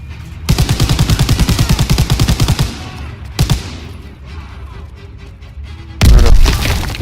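Rapid machine-gun bursts from a mounted turret in the Call of Duty WW2 video game, a long loud rattling volley followed by a short burst, then a heavy boom near the end.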